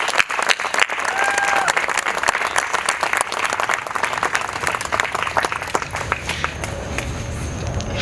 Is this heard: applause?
yes